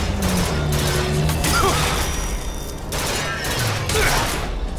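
Rapid carbine fire crackles through a BioShock Infinite battle amid crashes and mechanical clatter, loud and dense in bursts, with voices mixed underneath.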